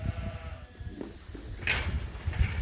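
Sheep and lambs bleat in a barn, a few wavering calls over the shuffling and rustling of the animals nearby, with one louder bleat standing out at moderate volume.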